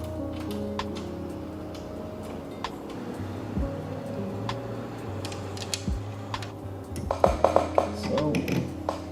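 Small metal washers and nylon locking nuts clink and tick as they are fitted onto bolts for a rear ladder on a VW T25 T3 Vanagon, light scattered metallic taps over a steady background, with someone talking throughout.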